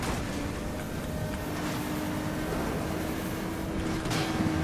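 A car in Need for Speed: Most Wanted (2012) accelerates through a forest at close to 290, its engine a steady, dense roar mixed with wind rush that holds at constant loudness and swells slightly near the end.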